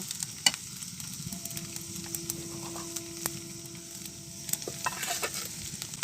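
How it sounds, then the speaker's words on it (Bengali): Ginger paste lightly frying in a pan fills the air with a steady, close sizzle, broken by a few soft stirring clicks and a faint hum. "আদা বাটা হালকা একটু ভেজে নেব"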